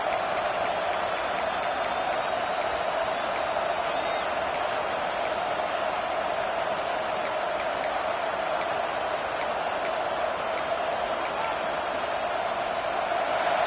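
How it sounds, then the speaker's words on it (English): A large crowd at a Texas A&M vs LSU football game roars steadily throughout, a dense continuous wash of cheering and noise with scattered sharp claps and whistles poking through. "This crowd bringing the energy and noise early."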